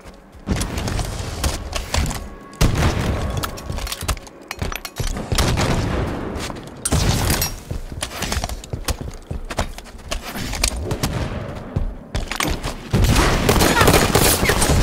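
Gunfire in Halo 5: Guardians ranked Arena Slayer match, with repeated loud bursts and sharp shots in a dense, busy mix that runs nearly continuously, with brief lulls between volleys.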